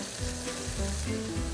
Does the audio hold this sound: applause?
no